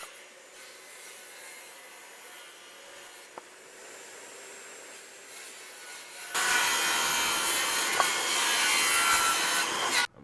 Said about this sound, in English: As you can see, I'm sawing these pallets in half.